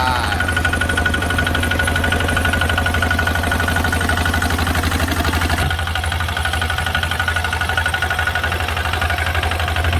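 A model 440 machine works a 25-rai plot, its engine running loud and continuous. A rapid knocking, jackhammer-like pulse holds throughout, and the tone shifts slightly partway through as the load changes.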